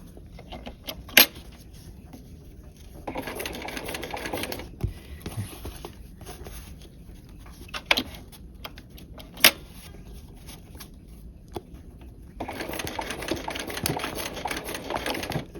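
A sewing machine stitches cord into trim, running in bursts of steady mechanical whirring with pauses between, punctuated by a few sharp clicks and clacks, close up with no talking.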